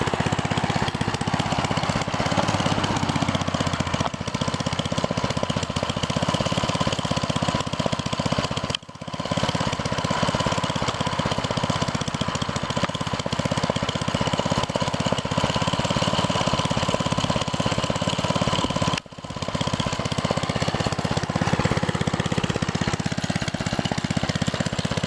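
A mini bike engine idles steadily at close range, a continuous loud mechanical drone with a constant rough chug and no talking, broken only by two brief dips in level.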